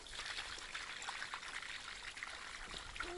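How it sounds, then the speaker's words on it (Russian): Water trickles and splashes steadily close by, a soft, continuous burbling stream that stays level throughout, with no talk over it. "Вода,"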